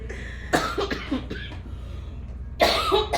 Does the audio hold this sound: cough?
yes